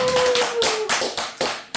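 An audience at a Buddhist dharma talk gives a round of clapping in a few distinct loud bursts, close and reverberant, with a faint sustained tone under the first part.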